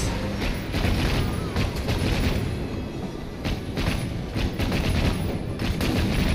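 Continuous gunfire from allied fighters in Assassin's Creed Syndicate, a loud, dense fusillade of overlapping shots and bangs that keeps up throughout without a break.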